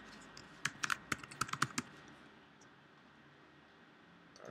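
Quick burst of keystrokes on a computer keyboard entering a username and password, about a dozen crisp clicks in rapid uneven rhythm, then quiet room hiss.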